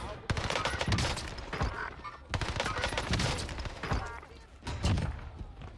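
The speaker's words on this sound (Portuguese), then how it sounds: "parece o cara chegou atirando" Bursts of rapid video game gunfire, with fusillades and machine-gun volleys, rattle in dense waves with brief lulls between them, loud and close.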